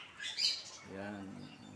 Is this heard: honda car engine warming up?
no